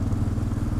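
A Honda Dominator motorcycle engine runs roughly and sounds bad, a close, loud, uneven low chugging idle with clattery pulses over a brief moment.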